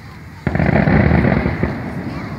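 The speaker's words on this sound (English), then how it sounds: "That's the big fireworks." Big Fourth of July fireworks booming at a distance, a sudden heavy burst followed by a sustained rumbling roar with a second thump, outdoors with faint voices underneath.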